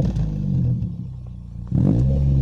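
A German four-wheel-drive car engine rumbles at idle, then climbs into a sharp rev near the end, loud and close with a deep throaty tone and no talk.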